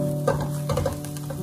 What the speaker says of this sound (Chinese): 把所有的蒜末和红椒全部给它炒香